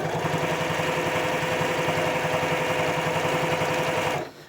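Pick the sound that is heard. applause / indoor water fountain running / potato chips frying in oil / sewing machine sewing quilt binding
sewing machine sewing quilt binding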